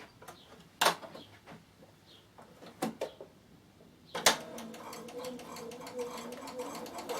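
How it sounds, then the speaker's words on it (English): A sewing machine stitches an upcycled backpack: a few sharp clicks and knocks at first, then a close, rapid run of stitching in the second half. "I'm just going to do a little bit of stitching on this here to make sure that everything is fine."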